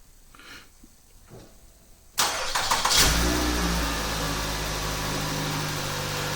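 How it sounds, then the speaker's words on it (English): After a few faint clicks and a quiet stretch, a Nissan Rogue's engine is remote-started, cranks and starts, then settles into a steady idle hum nearby. "We're going to start the engine by pressing and holding."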